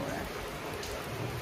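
Steady rain falling through a whole day in a village near Kaifeng on a cool day, a soft continuous hiss of drops on surfaces heard close and unbroken, with no voices.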